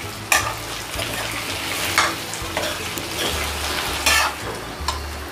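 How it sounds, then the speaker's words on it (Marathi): Spiced potatoes being sautéed in a kadhai (wok) for an onion-potato curry: a low continuous sizzle broken by several sharp metallic spatula scrapes and clanks at irregular intervals, close and with no voices. "एकदा हे बटाटे आता मी व्यवस्थित परतून घेते।"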